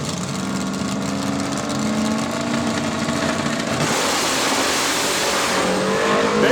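A pair of Ford Mustang drag cars, blower and nitrous setups, race down the strip in a heads-up event, their engines roaring loud and sustained as they rise and scream past, a broad wash of racing noise.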